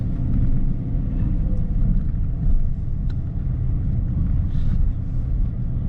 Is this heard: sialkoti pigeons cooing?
no